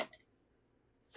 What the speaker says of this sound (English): I want it to cook faster, so I'm just cutting them